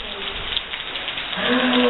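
Rain falls steadily over an outdoor yoga session, a soft, even patter that thickens slightly toward the end, joined by faint tonal hums in the background.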